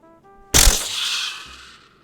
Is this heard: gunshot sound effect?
yes